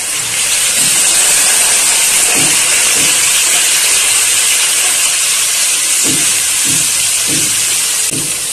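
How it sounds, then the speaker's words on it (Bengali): Ground spice paste added to hot oil with onions already fried red for a Bengali chicken curry, giving a loud, steady sizzle up close, broken by a few soft stirring knocks. "পেঁয়াজ লাল করে ভাজা হয়ে গেছে, এবার আমি এই বাটা মশলাটা দিচ্ছি।"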